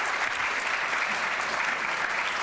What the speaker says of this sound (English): So we're going to applaud him with our honor here.